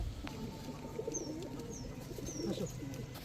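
Pakistani pigeons at a seller's stall coo softly and repeatedly, with a few faint higher chirps over a low steady background hum.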